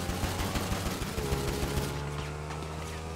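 Rapid automatic gunfire in GTA Online, a dense rattling burst of shots that gives way to a steady engine-like drone, loud and up close with no voices.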